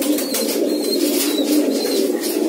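Pigeons cooing close by in a loft with birds perched, a steady low murmuring coo running continuously and loud throughout, with faint chirps above.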